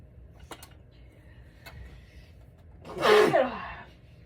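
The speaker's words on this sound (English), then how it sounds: "sneezing with a separated rib is not fun" A single sharp sneeze bursts out loudly near the end, after a couple of faint clicks in an otherwise quiet room.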